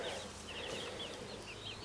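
Chickens on a homestead cluck and chirp softly in short repeated calls over a steady outdoor background hiss, faint and somewhat distant, with no talking.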